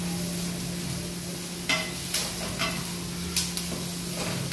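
Onions frying in a pan give a steady, moderate sizzle, broken by a few sharp scraping strokes of a spatula as they are stirred, with no talk.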